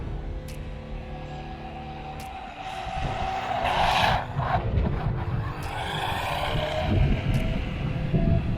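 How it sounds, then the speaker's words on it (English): A small JJRC Q146-YW RC basher truck running on a LiPo battery drives outdoors, its tire noise louder than the quiet electric motor, a fairly faint rushing and whirring that swells as it passes and continues unevenly. "You can hear the tire noise over the motor"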